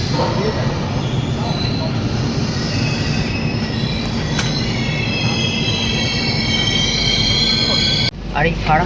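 The Kolkata–Sairang Express rolls into Farakka station with a loud, steady rumble and high wheel squeal, heard from on board, ending in a sudden shift of noise near the end.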